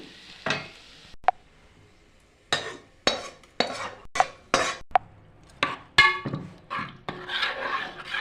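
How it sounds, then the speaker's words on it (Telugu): Fried tempering going into gongura dal curry, heard as a run of sharp spoon scrapes and clinks against a pot while the dal is mixed, separated by short quiet gaps. "ఫ్రై అయిన తాలింపు కర్రీలో వేసుకుంటున్నాం."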